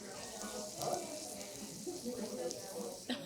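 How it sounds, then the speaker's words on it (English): Food sizzling and frying on a hot griddle in a Denny's restaurant kitchen, a soft steady crackling hiss with faint clatter and background chatter. "Do you hear this sizzle?"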